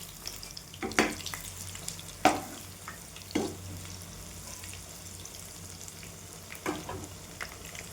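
Eggplant fritters deep frying in hot oil give a steady soft sizzle, broken by a few louder clinks and scrapes as the pieces are turned, with no talking.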